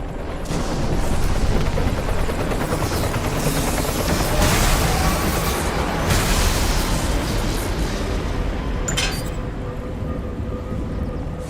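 Helicopters in the vampire shooter game Redfall, a dense, continuous roar of rotor and engine noise with rumbling low end and crackling bursts, steady and loud throughout without talk.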